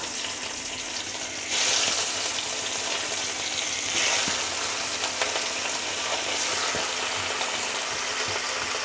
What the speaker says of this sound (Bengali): আর এখন আমি নুন হলুদ মাখানো মাছগুলি একে একে ভেজে নেব